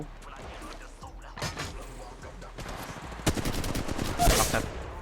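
Rapid bursts of automatic gunfire in the mobile battle-royale shooter Apex Legends Mobile, starting as scattered shots and building into dense, loud volleys near the end, with a voice talking over the action.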